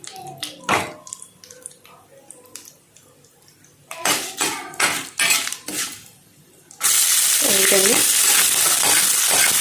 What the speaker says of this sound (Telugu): ఉల్లిపాయ పచ్చిమిరకాయ ముక్కలు మనం ఫ్రై చేసుకుంటున్నాం